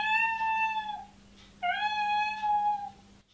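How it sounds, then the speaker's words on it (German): An Alexa smart speaker plays a recorded cat meowing: two clear, drawn-out meows with a short gap between them, loud and close, with no talk over them. "Alexa, wie macht die Katze?"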